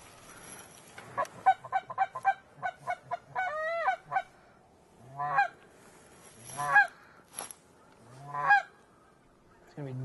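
Mallard ducks call while landing during a South Arkansas hunt. A quick run of loud, nasal quacks drops in pitch, then several longer, drawn-out honking calls follow at intervals against quiet surroundings.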